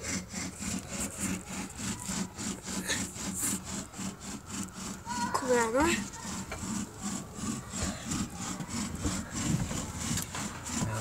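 Fire bow drill spinning a spindle into wood, a rapid back-and-forth rasping and scraping at a steady rhythm, close and continuous, with a short squeak midway and a brief spoken line in Dutch.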